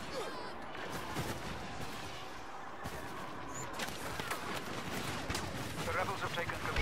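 Rapid blaster fire in a Star Wars video game, dense crackling shots repeating throughout at moderate level, mixed with game effects and a voice talking.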